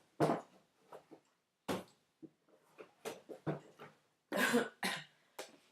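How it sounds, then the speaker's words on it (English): A run of harsh coughs bursts out in separate fits, close and loud, with short quiet gaps and a heavier cluster of coughs near the end. "I feel I may have a slight coughing fit"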